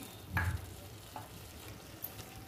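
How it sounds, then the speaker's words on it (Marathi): Ridge gourd curry with freshly grated coconut sautéing in a pan, a low, gentle sizzle broken by a few soft stirring scrapes of a spoon, heard up close with no voices. "व्यवस्थित असं परतून घेऊया। खोबरं घातल्यावर पण थोडा वेळ असं शिजू द्यायचं"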